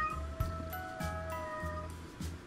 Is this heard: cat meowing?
yes